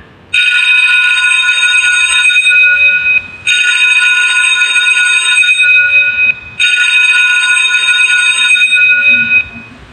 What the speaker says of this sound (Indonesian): bel sekolahnya berhasil membunyikan dari waktu inputan yang sudah kita masukkan